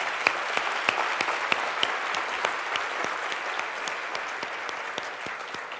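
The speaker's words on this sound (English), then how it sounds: "let's give applause there." An audience at a talk on genetically modified foods applauds, a steady patter of many hands with a few sharp, distinct claps standing out nearby, moderately quiet and continuous.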